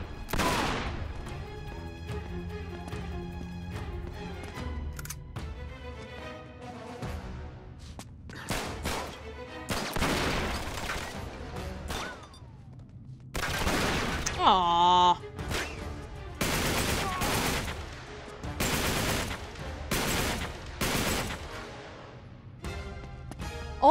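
Heavy, loud gunfire from the Uncharted 3 video game set in France, bursts of shots and impacts hitting repeatedly over game music and effects, with someone talking at times.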